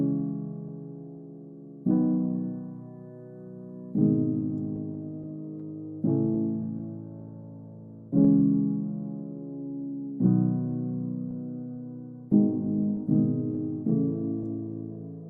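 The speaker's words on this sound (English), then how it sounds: "But we have this piano that sounds like this." Piano chords open a produced song, each struck firmly every two seconds or so and left to ring and decay, with a few quicker chords near the end, played alone at moderate volume.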